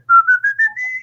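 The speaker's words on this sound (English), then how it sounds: "you can use your mouth to make all sorts of sounds. Oh, like whistling." A single person whistles a short rising melody, clear and close, with a few sliding notes and no other sounds around it.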